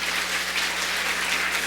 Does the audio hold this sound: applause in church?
yes